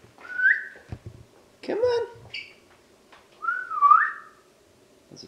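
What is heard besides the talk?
person whistling to call a dog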